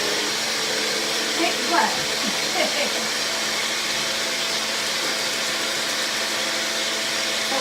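An electric kitchen grinder runs with a steady, loud whirring roar from start to finish, and a brief spoken question is heard partway through.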